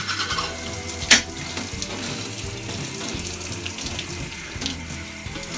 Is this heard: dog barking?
no